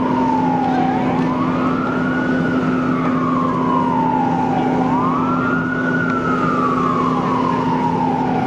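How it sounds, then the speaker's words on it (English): An ambulance siren wails in slow rising and falling sweeps as it arrives at a mock car crash scene staged by a high school, loud and close over a steady engine drone. "another ambulance is starting to arrive on the scene"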